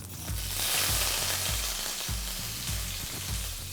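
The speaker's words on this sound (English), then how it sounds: "Once the mustard seeds start splattering, add half teaspoon of Asafoetida Powder, a few curry leaves." Mustard seeds, cumin and red chilies crackle in hot oil, a loud, continuous close-up sizzle over a low rhythmic musical pulse.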